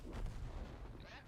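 A tank gun fires in World of Tanks, a heavy booming report with a low rumbling tail that stays loud through the whole moment, followed by a brief higher metallic crack as the shell strikes.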